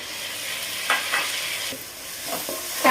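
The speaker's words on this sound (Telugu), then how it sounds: "టమాటా ఇలా వేగిన తర్వాత" Chopped onion and a large chopped tomato fry in a pan for mushroom biryani, a continuous hissing sizzle marked by a few brief spatula scrapes, close and moderately loud with no voices.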